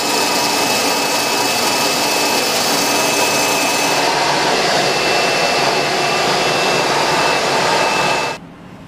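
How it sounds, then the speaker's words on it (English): A bandsaw cuts tight crescent shapes from a small wooden disc, a steady loud whining buzz running almost without pause for about eight seconds before the motor cuts off abruptly near the end. "I may have exceeded the ability of my bandsaw to cut that"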